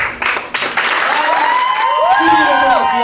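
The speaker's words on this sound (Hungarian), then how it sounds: "most tányércsörömpölés helyett még egyszer szóljon a taps" Wedding guests clap under loud festive music, with melodic instrumental lines running over the applause and a bit of crowd voice mixed in.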